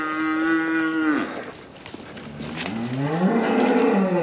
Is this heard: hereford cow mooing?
yes